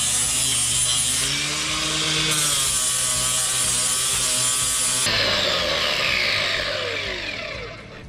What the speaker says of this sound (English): I'm going to use just a flapper blade for most of it